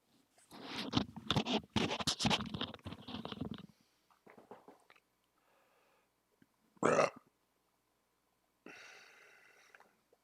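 A person lets out a long, loud, rumbling burp that carries on for a few seconds, followed by quieter scratchy rustles and brief noises with silent gaps between them.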